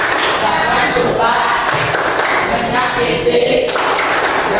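A school classroom claps out the anti-bullying clap rhythm together, with loud thumping, slightly ragged claps under voices chanting along.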